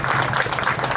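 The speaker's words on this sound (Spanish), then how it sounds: "demos otro fuerte aplauso a la señorita Anaí." At the end of a quinceañera mass, a crowd in church applauds in a dense, steady burst that lasts the whole short moment.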